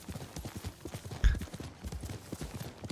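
Horse hooves clip-clop at a brisk, even pace in Ghost of Tsushima, a quiet, continuous patter of hoofbeats with a brief louder thump midway and no talk over it.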